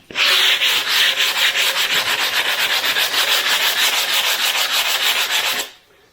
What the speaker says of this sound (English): You don't want to push real hard, just let the pad do the job, just sand it right off.